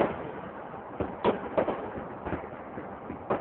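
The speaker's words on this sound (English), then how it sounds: "There's beautiful fireworks though." Distant fireworks thump and pop outside at night, a handful of faint muffled bursts scattered irregularly over a steady low background hiss.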